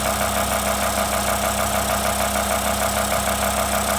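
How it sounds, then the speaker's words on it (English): A BMW E60 M5 V10 idles with its bonnet insulation removed, a steady, loud, rough mechanical drone with a tractor-like clatter that holds constant throughout, close up and with no talking. "especially with the V10, even at idle, the thing sounds like a tractor."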